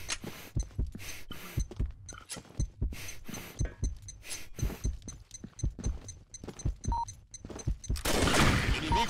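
Gunfire from the online shooter Combat Arms rattles in quick, uneven bursts of sharp shots, some single and some clustered, over a quiet background, ending with a louder burst of noise.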